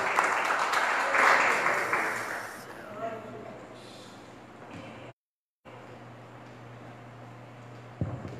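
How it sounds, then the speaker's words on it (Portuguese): A church congregation applauds at the close of a service. The dense clapping fills the first couple of seconds, then thins and fades into a quiet room with a low hum, broken by a brief dropout. "Uma salva de palmas para o Senhor"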